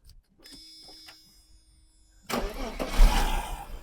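Quiet mechanical clicks and a faint tone, then a car engine cranks and catches with a loud rumbling roar that keeps running unevenly, with cavitation noise.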